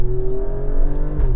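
An Alfa Romeo Stelvio SUV engine in race mode gives a loud, steady, close droning growl that holds its pitch through one short stretch, with no talking.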